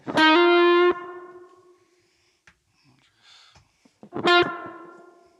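Electric guitar played through a BOSS GT1000 modelling a Mesa Boogie-style combo amp, with modulation added to the delay: two short bursts of bright, ringing notes, each trailing off into shimmering repeats, with near silence between them.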